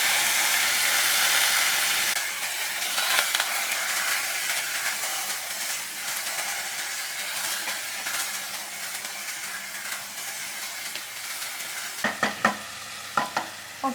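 Pork tipped into a hot pan with cumin and fenugreek seeds sends up a loud, steady sizzle of frying and steam that gradually eases, followed by several sharp clinks and scrapes of stirring near the end; no one speaks.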